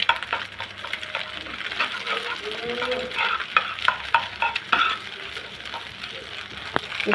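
Cauliflower being fried and stirred in oil in a pan for a mashed cauliflower bharta, with steady sizzling and repeated scraping stirs throughout, up close and moderately loud.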